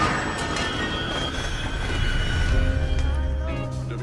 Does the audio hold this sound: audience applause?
no